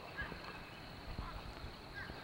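Wild turkeys gobble from a distance across Deep South river country, faint warbling calls rising a few times over steady outdoor background noise, with no voices.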